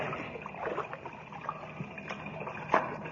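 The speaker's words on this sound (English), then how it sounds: "As they wade through the water of the partly flooded shaft" Wading through the water of a partly flooded mine shaft, staged as a radio drama effect: soft, faint sloshing and small splashes in an irregular rhythm, with one sharper splash near the end.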